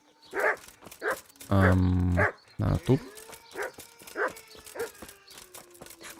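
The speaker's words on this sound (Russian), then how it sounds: "Вот эта собака меня пугает, это просто шок." A dog barks in the medieval role-playing game Kingdom Come: Deliverance, with several sharp barks at a steady pace over droning music and a game voice speaking.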